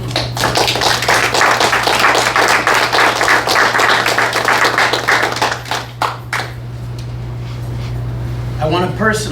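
Dense applause from a crowd for about six seconds, fading into scattered claps and room noise over a steady low hum.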